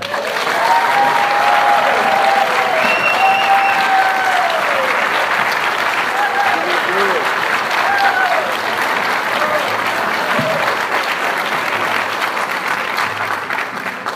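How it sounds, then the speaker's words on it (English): A crowd at a town centennial celebration gives a stage performer a long, loud, sustained round of applause, with a few whistles and cheering voices rising over the continuous clapping. "let's please give a rousing round of applause for Mary Ann Pavlik"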